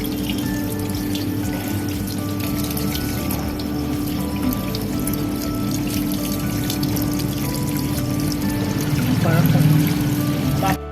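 Tap water runs steadily over rohu fish being washed in a kitchen, a constant splashing wash that swells slightly near the end, with a faint voice in the background.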